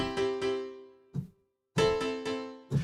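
A synth chord struck a few times in quick rhythm, then after a short gap the same chord returns in repeating echoes from a Cubase MIDI echo plugin, bright and close.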